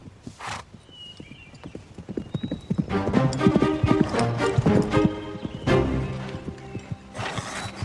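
Horse during a riding lesson: a brief whinny, then loud, rapid hoofbeats of a gallop building up close, with another neigh near the end.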